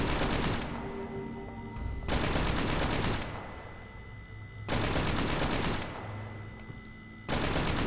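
A turret in The Talos Principle fires repeatedly in loud bursts of rapid gunfire, each burst lasting a second or two and separated by short pauses, with no voices.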